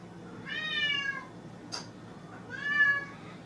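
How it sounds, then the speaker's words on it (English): A pet cat meows twice, two drawn-out, fairly close cries with a short click between them, over a quiet room hum. "He's an evil cat."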